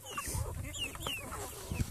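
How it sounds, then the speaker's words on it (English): Light Brahma chickens, roosters and hens, cluck and murmur softly nearby, with a few scattered higher calls and some rustling mixed in. "That one is a rooster, and I'll try and find the hen."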